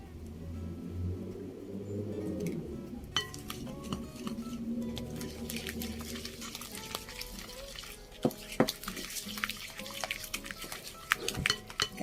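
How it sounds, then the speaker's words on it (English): Icing sugar and vanilla are mixed in a bowl for Pakistani coconut cookies, with steady soft stirring and scraping up close and a few sharp clinks against the bowl toward the end. "now we can mix the icing sugar and also the vanilla."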